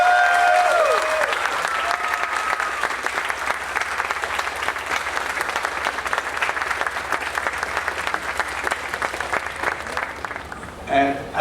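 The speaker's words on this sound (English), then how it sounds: "let's give him a big round of applause" Sustained audience applause at the Superman Celebration in Metropolis, Illinois, a dense crowd clapping steadily for about ten seconds before trailing off.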